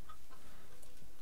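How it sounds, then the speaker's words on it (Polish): A chicken in the colony game RimWorld gives a brief cluck, close and fairly loud over a dense, noisy background. "Tak, kura je siano."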